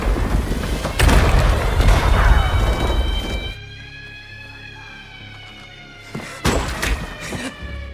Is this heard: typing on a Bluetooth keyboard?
no